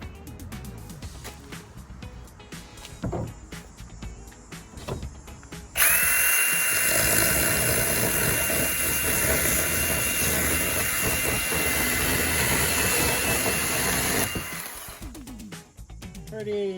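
A Milwaukee M18 hatchet saw, a cordless battery pruning saw, revs up and cuts with a loud, steady high-pitched whine for about nine seconds. Some clicks and handling noise come before it, and the sound drops off sharply when the cut ends.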